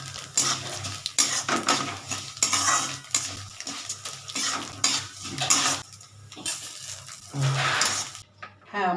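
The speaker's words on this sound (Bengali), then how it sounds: "আমার চাল ভাজা হয়ে গেছে এবার আমি চালটাকে একটু তুলে নিচ্ছি" A spoon scrapes and clinks against a pan as fried rice is scooped out, in irregular metallic scrapes and taps over a light sizzle, close and moderately loud.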